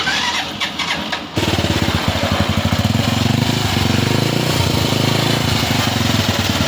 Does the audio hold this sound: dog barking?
no